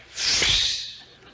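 A voice makes a quick breathy whooshing hiss with the mouth, a single short swish that imitates a dash.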